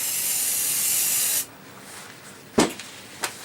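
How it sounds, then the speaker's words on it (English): A steady broadband hiss of screen cleaner sprayed onto a TV screen lasting over a second, then quiet, followed by a couple of short sharp taps or clicks. "Like I said, spray it on."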